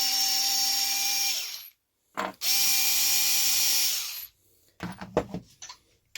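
A powered ratchet driving a 3mm bolt with an 8mm nylock nut on the upper camber link of a Losi DBXL-E 2.0. Two close, whining motor runs of about two seconds each are followed by a few short clicks and knocks.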